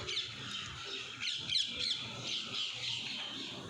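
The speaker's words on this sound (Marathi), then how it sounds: "पक्ष्यांचा आवाजसुद्धा तुम्हाला येत असेल." Faint chirps and squawks of several birds call intermittently outside a building against a soft, steady outdoor background.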